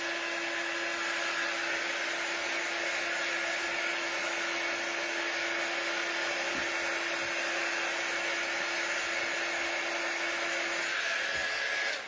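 A hair dryer running steadily while drying paint on winter church and tree wall decor, a constant close whooshing hum with no breaks, fairly quiet and alone.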